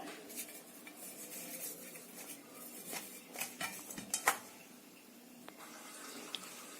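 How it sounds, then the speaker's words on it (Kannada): An aluminium baking vessel is greased, making faint scraping and light metallic clinks and taps that come in small bursts, close and quiet, with no speech. "ನಾವು ಅಲ್ಯೂಮಿನಿಯಂ ಪಾತ್ರೆನ ಸ್ವಲ್ಪ ಗ್ರೀಸ್ ಮಾಡ್ಕೊಳ್ಳೋಣ"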